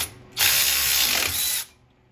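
A ratchet wrench clicks steadily in one sustained burst of about a second as it tightens a bolt on a 1969 Dodge Charger R/T, loud and close with no talking.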